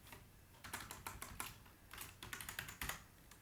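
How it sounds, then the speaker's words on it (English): Rapid keystrokes on a computer keyboard while entering names into an Excel spreadsheet, a close, uneven patter of clicks in short bursts with no talking. "And then you type in one more, Michael."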